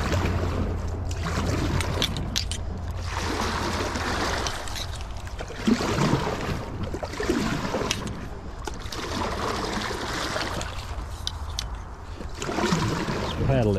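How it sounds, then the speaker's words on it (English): Someone stands while paddling an Ascend 133x fishing kayak, with repeated paddle strokes splashing and dripping water in a slow rhythm, near and fairly quiet, over a low background hum. "Let's paddle it around standing up and see what it's like."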